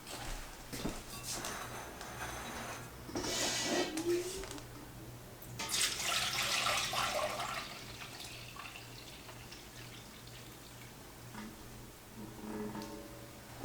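Apple juice pouring out of a Cook N Home steam juicer, a soft trickling and splashing stream with a few louder gushes and clinks, close and fairly quiet.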